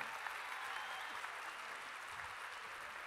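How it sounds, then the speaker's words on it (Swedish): Faint, distant audience applause at a live variety show in Halmstad, a steady wash of clapping with no distinct individual claps. "En applåd!"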